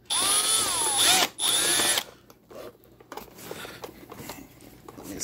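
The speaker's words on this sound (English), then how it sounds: "make sure your drill is going the right way." A power drill driving screws on a Scotts Wizz seed spreader whines loudly in two bursts over about two seconds, then gives way to quieter clicks and handling noises.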